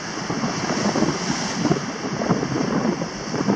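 Rough sea waves roll and wash continuously around a fishing boat on choppy water, with steady broadband surf and wind buffeting the microphone, loud and close throughout.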